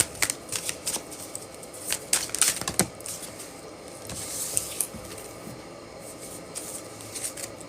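Tarot cards are shuffled close up in quick, uneven bursts of riffling and soft slapping, louder in the first few seconds and then trailing off into lighter flicks, with no voices.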